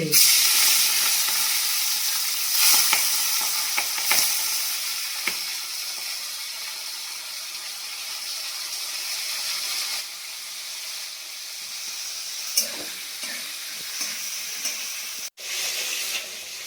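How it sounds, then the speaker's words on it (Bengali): Hilsa fish heads fry in hot oil, giving a loud, continuous close hiss and crackle that slowly eases, with a few sharp pops and spatula touches and no speech. "এই যে ইলিশ মাছের মাথাগুলো দেখেছেন, মরমর করে ভাজা হয়ে গেল।"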